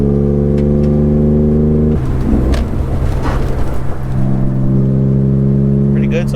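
A BMW E39 accelerating onto a freeway, its engine droning loud and close, then a gear change at about two seconds into a rougher, roaring pull with road and wind rush building, no talk over it.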